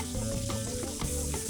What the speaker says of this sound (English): We're gonna fry it until it's golden brown.